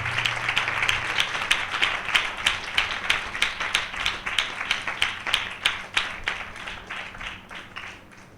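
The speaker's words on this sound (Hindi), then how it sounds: "हम जोरदार तालियों से उनका स्वागत करें।" Audience at a spiritual gathering clapping together in a steady rhythmic beat, dozens of evenly spaced claps in unison, moderately loud and gradually fading toward the end.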